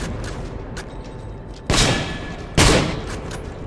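A rifle fires two loud, sharp shots about a second apart in the survival game Insomnia: The Ark, each with a lingering tail over a steady background hum.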